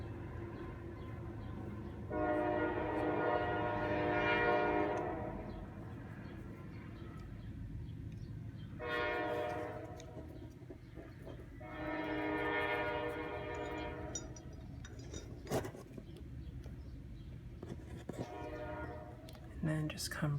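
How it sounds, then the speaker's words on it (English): A passing train sounds several long horn blasts separated by gaps, with a rumbling rail background running under them. Faint outdoor noise and occasional knocks fill the pauses. "Ignore the train."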